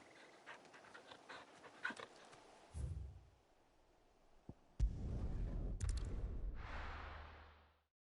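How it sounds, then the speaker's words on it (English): A very large puppy-like creature in Final Fantasy XVI pants heavily and whimpers, rough rhythmic breaths close by with soft whines, broken by a few thumps and a brief rustling swish. "You're just a big puppy, aren't you? A very big puppy."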